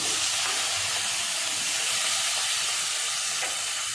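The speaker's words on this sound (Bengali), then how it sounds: "পেঁয়াজটাকে লাল করে ভেজে নেব" Chopped onion frying in hot oil with whole cumin, bay leaf and green chilli makes a loud, continuous sizzling hiss, close and steady from start to end, with no voices.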